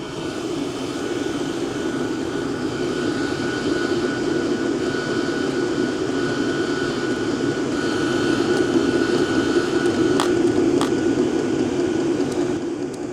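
A workshop diesel heater runs at a steady, loud roar, with a continuous high-pitched ventilation whine over it and no pauses.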